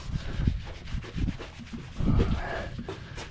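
Cleaner being rubbed by hand into the paint of a classic Pontiac V8 project car, giving repeated scrubbing, rasping strokes in uneven bursts, close and moderately loud with no talk.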